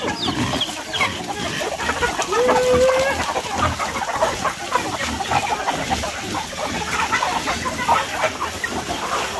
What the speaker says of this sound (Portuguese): Vamos dar comida à galinha aqui agora.